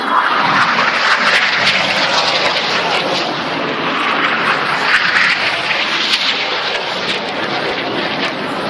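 Red Arrows jets fly a display at the Farnborough Airshow 2014, a loud continuous broadband roar of jet engines that holds steady throughout, with wind buffeting the microphone.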